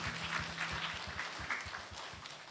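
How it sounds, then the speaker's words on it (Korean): A church congregation at a praise-team worship service gives quiet, steady applause, with a soft, low rhythmic pulse, likely music, underneath. "주님께 영광의 박수 올려드립니다"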